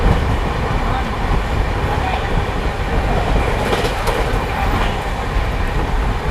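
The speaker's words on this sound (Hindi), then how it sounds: "अभी जस्ट सामने से तेजस एक्सप्रेस भी हम लोग को क्रॉस होने वाली है।" The IRCTC Tejas Express rushes past on the opposite track near Tundla, heard from aboard the North East Express as a loud, steady rumble with rhythmic wheel clatter and a brief metallic flare midway.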